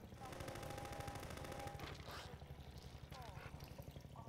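Rapid bursts of enemy gunfire in Half-Life 2, dense rattling volleys that pulse steadily throughout, mixed with game sounds and a thinner, choppier stretch toward the end.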